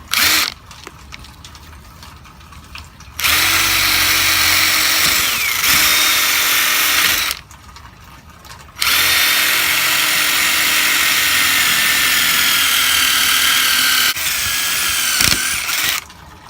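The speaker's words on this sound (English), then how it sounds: "got my impact drill with my masonry bit" A loud impact drill with a masonry bit whines close by in three long bursts, grinding hard into brick with short quiet pauses between.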